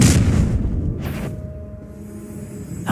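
The Confringo explosive spell in Hogwarts Legacy: a heavy, close boom with a rumbling burst, a second softer impact, then a fading ringing tone and a quiet tail.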